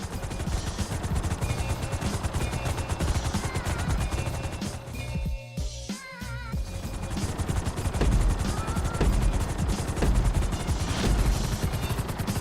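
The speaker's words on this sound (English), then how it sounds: "we're gonna put you in a helicopter for this lesson" A helicopter's rotor drones loudly and steadily through a dense, synthetic soundscape in Grand Theft Auto V, with bursts of gunfire crackling on top and a brief dropout midway.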